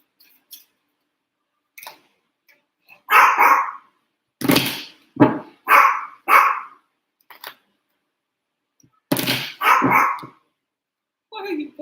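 A dog barks in short bursts indoors, sharp loud barks in clusters separated by silence, near the listener, with no talk over it.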